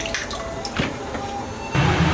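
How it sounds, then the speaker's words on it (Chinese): Tap water runs and drips while fresh okra is rinsed in a kitchen sink, light splashes and patters that swell into a louder, fuller gush near the end. "把秋葵清洗干净，沥干水分和备用"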